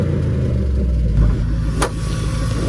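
An old $1,200 beater car's engine idles steadily at close range, a continuous low rumble with a brief bump in the middle and a short bright click near the end, with no voices.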